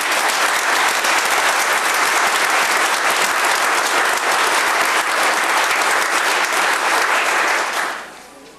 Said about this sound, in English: And I like to applaud you guys.